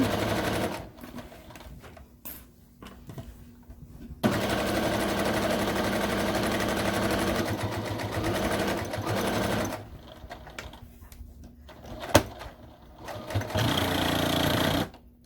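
A sewing machine runs in long steady bursts while back-stitching over the pocket of a fabric armchair caddy with layered binding, with a loud continuous whir, brief pauses and a final short run.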